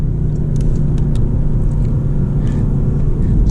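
A Porsche Panamera Turbo accelerates hard with boost engaged, a steady low engine rumble and road roar heard from inside the car.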